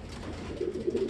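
Pigeons coo inside a loft, a soft low rolling call repeating two or three times near the end over a faint background murmur, with no talk.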